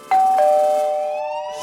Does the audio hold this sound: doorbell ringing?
yes